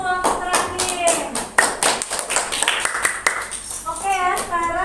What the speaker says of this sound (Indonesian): beri tepuk tangan juga untuk kelompok terakhir.